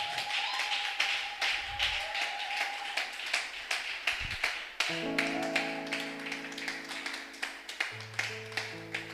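A church congregation clapping along in rhythmic, steady claps at a worship service, with sustained keyboard music tones joining partway through.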